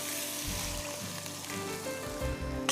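Raw mutton going into a hot pan for Parsi palav, a moderate steady sizzle of frying with faint low bumps, no one talking.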